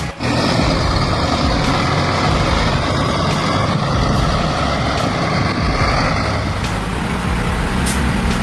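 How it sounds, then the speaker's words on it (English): Logging truck stuck in mud, its engine roaring loud and steady under heavy strain throughout, with a hiss like an air brake near the end. "This logging truck is stuck worse than an SUV in a Texas mud hole."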